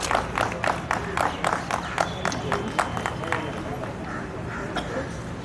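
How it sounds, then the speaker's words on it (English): Audience at an annual award ceremony clapping, with distinct individual claps standing out over a murmuring crowd and hubbub, tapering off after a few seconds as the room settles. "I extend a hearty welcome to reverend parents with a huge round of applause"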